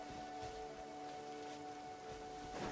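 Steady rain pattering in the video game Genshin Impact, a soft continuous hiss of drops, faint and even, alone with no voices.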